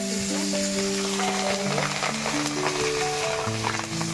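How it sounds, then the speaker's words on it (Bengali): Cumin seeds sizzle in hot oil in a wok for a Bengali fish curry, a steady crackling hiss under sustained background music. "তেলের পরে আমরা কড়াইতে তেল দিয়ে জিরেটা ফোড়ন দিচ্ছি"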